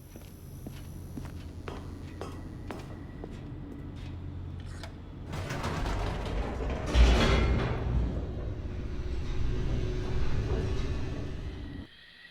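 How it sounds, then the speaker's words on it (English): Elevator in The Stanley Parable video game: a few soft footstep-like taps, then a loud rumbling rush swells in as the car plummets downward, holding steady before cutting off abruptly. "The elevator raced downward, plummeting towards an unknown fate."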